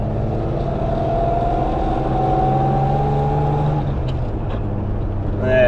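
A classic Alvis TA21 car is being driven, its engine making a steady, near drone with a faintly rising pitch as it pulls, and a brief louder swell at the end.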